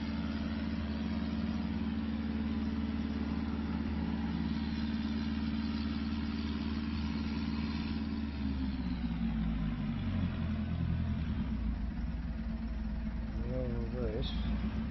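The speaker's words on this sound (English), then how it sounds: "Here's the new tractor we got, Case International 1455." A Case International 1455 tractor idles in Farming Simulator 25, a low, steady engine drone that shifts pitch partway through. Someone talks over it the whole time.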